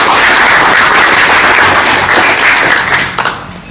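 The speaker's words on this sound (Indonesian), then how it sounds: "aplaus untuk mereka bertiga" An audience at a talk event applauds three invited speakers, a dense, loud wash of many hands clapping close by that holds steady and then thins out and fades near the end.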